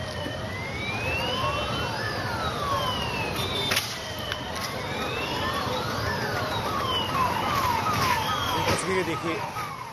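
Fire brigade vehicle sirens wail in repeated rising and falling sweeps at the scene of a cylinder blast fire in Pune, several overlapping, steady and fairly close above a rumbling background.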